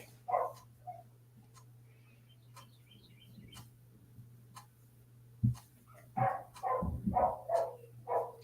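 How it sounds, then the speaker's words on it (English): Dogs bark and whimper in short, sharp bursts, a couple of yelps early and then a louder cluster of barks near the end, over a low steady hum and occasional faint chirps. "Oh my God, these poor dogs."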